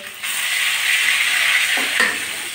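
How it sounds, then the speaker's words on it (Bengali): Bay leaves sizzle in hot oil in a pan, a steady bright frying hiss with a couple of stirring scrapes near the end. "তার জন্য তেজপাতা ফোড়ন দিচ্ছি তেলের ভিতরে"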